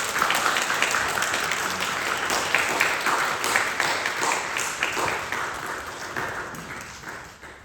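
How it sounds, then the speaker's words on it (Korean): Congregation at a Korean church's Parents' Sunday morning worship service applauds the elders, a steady, dense wash of many hands clapping that holds for several seconds, then eases slightly near the end. "함께 박수 쳐주시면 감사하겠습니다"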